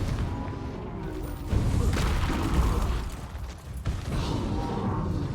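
Bombarda and Confringo spell explosions in Hogwarts Legacy, loud booming blasts and bursts over a continuous rumbling battle bed, one heavy impact after another.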